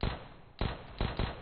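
A grenade goes off in Counter-Strike: Global Offensive, one of several sharp blasts that land about half a second apart, each loud and punchy with a short tail, and nobody talking.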